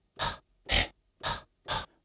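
Recorded breaths triggered as a sampler instrument from a keyboard: four evenly spaced airy breath sounds in a steady rhythm, close and fairly soft, with short silences between them.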